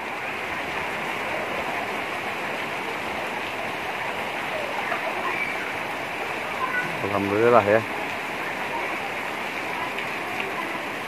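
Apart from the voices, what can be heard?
heavy rain falling in the countryside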